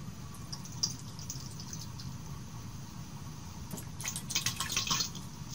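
Water is poured into an aluminum bottle, a soft faint trickle and dribble with a brighter splashing burst toward the end, quiet and close.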